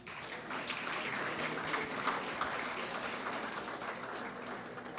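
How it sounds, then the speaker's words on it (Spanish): Applause from an audience at a live event, a steady broadband wash of clapping that holds at an even level for the whole stretch without any voices over it. "Otro aplauso."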